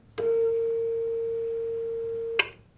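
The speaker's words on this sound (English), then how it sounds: "This is 440 hertz." A steady 440 hertz pure sine tone sounds alone for about two seconds, starting and stopping abruptly and holding an even loudness throughout.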